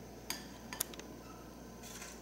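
Cooked noodles for yuni jajangmyeon are placed into a serving bowl, giving a few faint clinks of utensils against dishware in a quiet kitchen.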